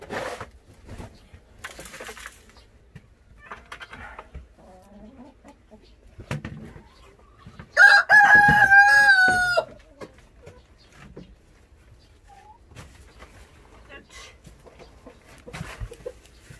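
Chickens kept for fertile eggs in a coop with sand laid down for dust bathing give scattered soft clucks and rustles, then one loud rooster-like call rings out for about two seconds before quieter clucking resumes.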